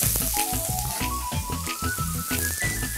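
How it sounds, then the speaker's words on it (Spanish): Food for a pork rice dish sizzles steadily in a hot frying pan, a continuous crackling fry that holds at moderate level for a few seconds, with a faint background tone and no talking. "vamos a ir colocándolo en la sartén, que previamente tiene que estar caliente"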